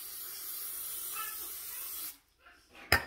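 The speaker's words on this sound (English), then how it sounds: "I'm going to spray my trays that's going to go into the instant air fryer." A continuous hissing of cooking spray onto air fryer trays lasts about two seconds, then stops, followed by a couple of faint clicks and a sharp tap.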